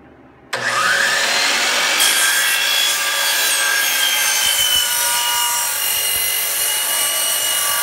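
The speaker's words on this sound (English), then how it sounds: "the next cut we'll make is the 7¾-inch" A power saw starts abruptly and bites into an oak end piece for a box, giving a loud, sustained whining cut close by, with a slight change in pitch as the blade works through the wood.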